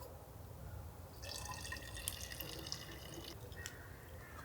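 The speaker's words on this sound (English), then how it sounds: "I'm gonna strain some of this rice water back into my water bottle." Starchy rice water is strained into a water bottle outdoors beside a fire box stove, a faint trickling and dripping pour over a low background rumble.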